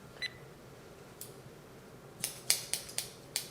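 Scissors snip through hair during a basic side-part high-layer haircut, a faint snip early on followed by a quick run of five or six crisp, close cuts near the end.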